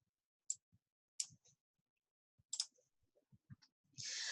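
Sharp, quiet mouse clicks in an Excel worksheet come in a sparse irregular series of short ticks against near silence, ending with a brief burst of hiss.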